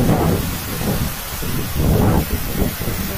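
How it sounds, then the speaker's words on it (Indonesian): Heavy rain pours down over open rice fields, a loud dense wash of noise with low rumbling surges and wind buffeting the microphone, and no speech. "Hujannya gede banget guys."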